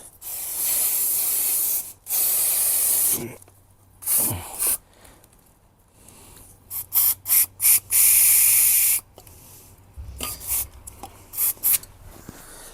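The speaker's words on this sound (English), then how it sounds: "Give it a bit of a spray down." Bursts of aerosol brake cleaner spray hiss onto rear brake parts of a VW Crafter or Mercedes Sprinter van, some long and some in short rapid puffs, close by, with quieter gaps between them.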